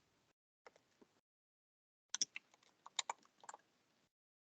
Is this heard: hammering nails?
no